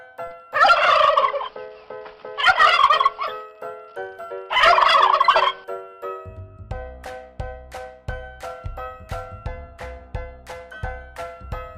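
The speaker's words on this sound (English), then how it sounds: "Turkey cock." A turkey cock gobbles in three loud, rapid, rattling bursts separated by short pauses, then a bouncy music tune takes over.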